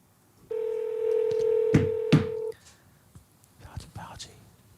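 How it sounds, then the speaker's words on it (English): A phone call is placed: a steady two-tone ringback tone sounds for about two seconds, broken by a couple of clicks, then fades into quiet murmuring voices nearby. "Oh, it's ringing."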